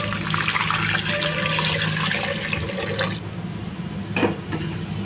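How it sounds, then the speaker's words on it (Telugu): Water pours steadily into a pressure cooker pot holding sweet corn cobs, a continuous splashing rush that thins and quiets after a few seconds, ending with a short clink. "ఇందులో నీళ్ళు పోస్తున్నానండి"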